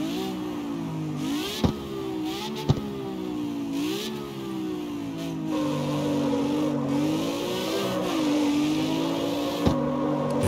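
A Lamborghini Aventador S V12 engine revs repeatedly, climbing and dropping in pitch and then holding a sustained higher drone, heard up close and loud with a few sharp pops, and no talking.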